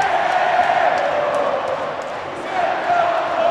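Cruzeiro supporters in a football stadium react to a Fluminense goal with a broad, sustained crowd roar that sounds like chanting, steady and loud throughout with a brief dip midway.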